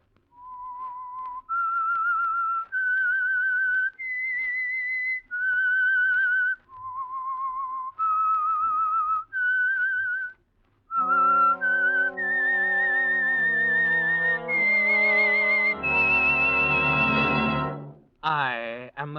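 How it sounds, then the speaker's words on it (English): A radio show's theme whistle for The Whistler, a lone human whistle stepping through a slow eerie melody of sustained notes, then joined by an orchestra that builds to a loud swelling finish. "That whistle is your signal for the Signal Oil Program"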